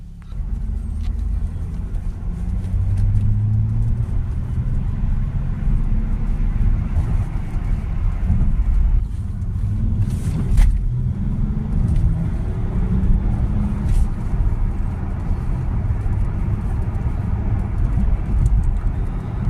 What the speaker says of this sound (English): we're going to take the car for a test drive